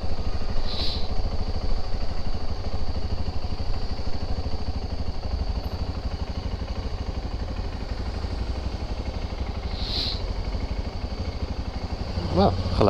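A motorcycle riding through thick fog in the Netherlands, its engine a steady low rumble and clatter throughout, with a couple of brief high beeps and a rider talking over it.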